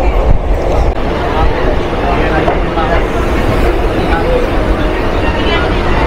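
A passenger train bound for NJP via Malda rumbles along loudly and steadily, a dense broad roar filling the carriage from start to finish, with people talking beneath the din.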